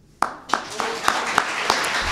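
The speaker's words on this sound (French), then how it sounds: "une grande main d'applaudissements" Several distinct hand claps ring out at a Quebec independence award ceremony, sparse and uneven rather than a full ovation, with a faint room murmur beneath.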